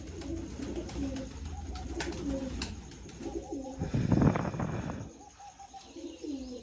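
Pigeons coo repeatedly in low, rolling phrases, with a few faint chirps and a steady background hum. A brief rush of noise passes midway.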